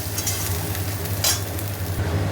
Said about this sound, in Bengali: ঢেঁড়সগুলো দিয়ে দিয়েছি, এটা ভালো করে ভাজা হোক, আলুগুলোও ভাজা হচ্ছে